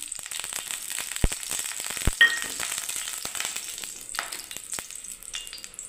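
Oil heats in a kadai over a gas flame, giving a steady, close sizzle and crackle with scattered sharp pops and a few light metallic clinks.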